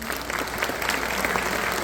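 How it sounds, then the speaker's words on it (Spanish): A burst of enthusiastic clapping from an audience, dense and fairly loud, continuing steadily for a couple of seconds. "démosle un fuerte aplauso"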